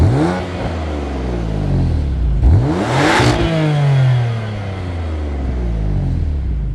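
A BMW F80 M4 engine revs while the car is driven, its pitch sweeping up and down through several loud rises and falls over a steady rumble.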